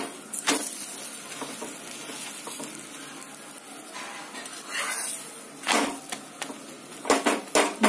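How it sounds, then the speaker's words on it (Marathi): A carrot and pea paratha roasts in oil or ghee on a pan, sizzling steadily with intermittent louder clinks and scrapes of a spatula against the pan, without voices. "भाजून घेणार आहोत आपण हा पराठा."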